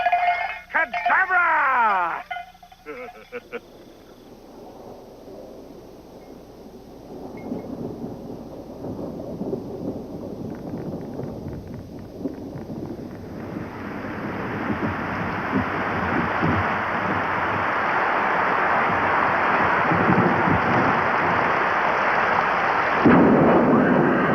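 A thunderstorm with rain, conjured as if by magic, swells from a quiet rumble into a steady, loud downpour that builds over many seconds after a brief opening flourish of tones.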